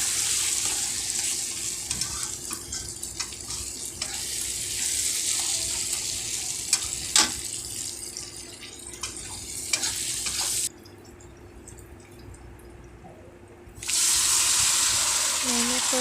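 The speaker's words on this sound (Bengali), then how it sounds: "ম্যারিনেট করে রাখা মাংসটাতে দিয়ে দিলাম, দিয়ে ভালোভাবে কষিয়ে নেব।" Marinated chicken hits a hot pan for a Bengali chicken kosha, loud broadband sizzling with clattering stirs throughout, a sudden drop to a quieter hiss for a few seconds before the frying surges back up.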